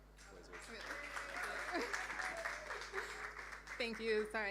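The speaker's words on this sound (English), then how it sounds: "round of applause as she makes her way up to the stage" Steady applause from an audience at a storytelling performance at a literary festival, moderately loud, with voices talking over it and a voice rising near the end as a performer makes her way to the stage.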